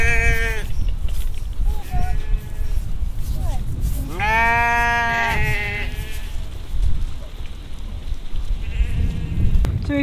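Several sheep bleat nearby at winter pasture, a few loud wavering calls with pauses between them, over a rough outdoor background of wind and rustling.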